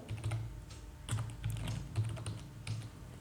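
Quick, light keystrokes on a computer keyboard, typed in short irregular bursts close by against a faint low room hum.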